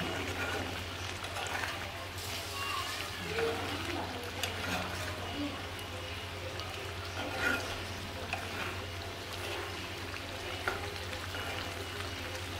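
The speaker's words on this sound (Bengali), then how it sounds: "এটা কষাইতেছি, বুঝছেন?" Fish curry with mixed fish sautéing in a pan, a steady low sizzle with faint stirring scrapes and a constant low hum running underneath throughout.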